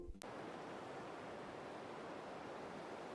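Sea waves wash onto a beach in a soft, steady, even rush of surf after a brief click at the start, faint and continuous throughout.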